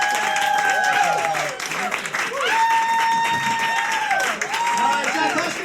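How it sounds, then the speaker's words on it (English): Comedy club audience applauding and cheering after a stand-up set, a steady dense wash of clapping with whoops and voices mixed in, lasting throughout. "All right, you guys have been great. Now you can clap."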